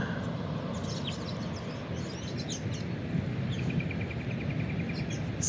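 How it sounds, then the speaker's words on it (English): Out in scrubby bush, a striated pardalote gives a quick series of high repeated piping notes. The notes are faint and somewhat distant over steady background noise, alongside other scattered bird chirps. "there's a striated pardalote calling up there. That pew pew pew pew"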